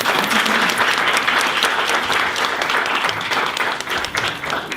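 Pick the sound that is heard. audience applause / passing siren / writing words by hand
audience applause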